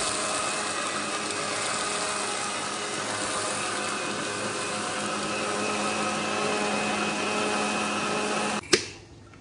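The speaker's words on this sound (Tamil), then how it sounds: "நல்லா அரைச்சிருச்சு சூப்பராக அரைச்சிருச்சு" A kitchen mixer grinder runs loud and steady for several seconds, whirring as it grinds a tomato and onion sambar paste, then cuts off abruptly near the end with a short clunk.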